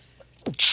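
A single quick sneeze, close and fairly loud, a sharp breathy burst after a short intake of breath.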